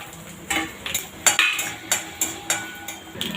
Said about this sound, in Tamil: கடுகு வெந்தயம் சீரகம் காஞ்ச மிளகாய் உளுத்தம்பருப்பு கொஞ்சம் பெருங்காயம் இதெல்லாம் போட்டு நல்லா தாளிச்சிக்கணும்